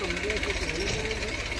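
A loaded tractor engine chugs steadily on the way to a Khodiyar Mata temple, with a continuous low rumble and rhythmic knocking, while people talk over it.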